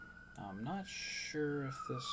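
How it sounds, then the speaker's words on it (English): Emergency vehicle sirens wail in the background, rising and falling tones heard under a man's speech while he works on a 3D modeling tutorial indoors. "Sorry about the sirens in the background"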